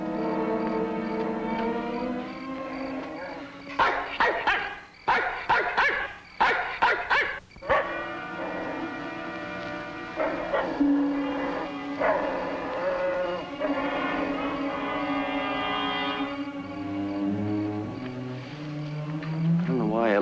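A dog in a 1966 drive-in sci-fi horror film gives a quick run of sharp barks. Voices and tonal sounds carry on before and after the barking.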